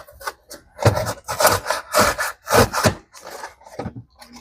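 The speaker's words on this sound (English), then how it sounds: "Let's open up this box" Rough scraping and tearing of a cardboard box being opened, coming in several loud bursts with brief pauses in between, close by and not masked by any talking.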